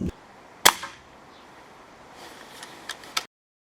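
BSA Cadet air rifle firing 8.4 grain Air Arms Diablo field pellets, one sharp close crack followed by a brief decay, then a few fainter ticks and clicks.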